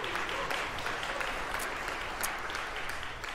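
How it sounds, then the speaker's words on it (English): A church congregation gives a round of applause for a guest preacher on a Sunday morning, an even, sustained crowd clapping heard at a distance and fairly quiet throughout. "We could give him a round of applause ahead of time"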